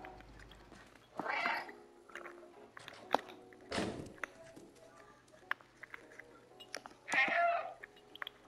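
A cat meows repeatedly in the video game Stray, a few short separate calls spread through quiet stretches, along with small clicks and soft game noises.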